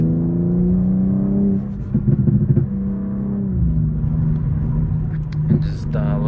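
Engine of a Stage 2 tuned BMW M4 Competition (G82) while driving, a steady low droning hum with a brief rougher surge in the middle, heard up close from inside the car with someone talking over it.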